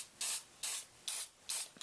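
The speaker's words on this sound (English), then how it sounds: "a little spray fixative" Fixative sprayed over a graphite drawing in four short, even hissing bursts with brief pauses between them, close and clear with no talk.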